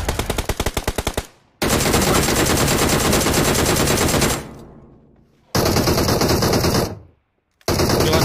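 Automatic rifle fire during a squad fight in BGMI (PUBG Mobile): rapid close bursts of shots, followed by sustained loud firing with echoing tails and brief pauses between volleys, with no talking.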